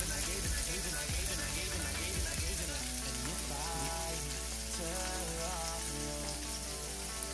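Garlic fries in fresh cooking oil with a dense, continuous sizzle and hiss that holds steady throughout, while faint voices or tonal sounds drift in the background.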